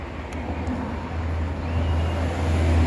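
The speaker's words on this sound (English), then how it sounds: "sorry about the traffic noise" Steady low rumbling road traffic near a coffee shop, continuous and moderately loud, with no distinct individual vehicles standing out.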